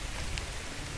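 Rain falls steadily at an outdoor fishing spot, a close, dense patter with drops striking a phone camera, and no voices in the brief stretch.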